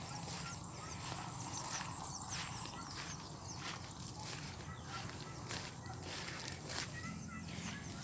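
Farm ducks honk and quack repeatedly at a moderate distance, a busy flock calling in uneven bursts over outdoor background noise.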